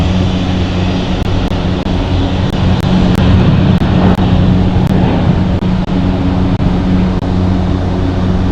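At Helsinki Airport an aircraft roars loudly and steadily as it takes off, its deep engine drone dense and constant, with faint sharp ticks scattered above it.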